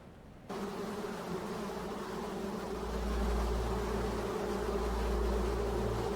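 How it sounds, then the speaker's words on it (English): Strange buzzing from the video game Rain World: a steady, droning electric buzz that starts abruptly, then gains a deep, swelling low hum beneath it, with no speech. "Rain World's strange buzzing."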